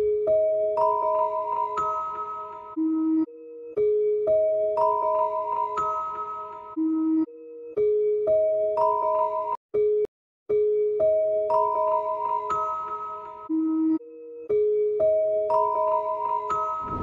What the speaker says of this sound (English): Very minimalistic bell pattern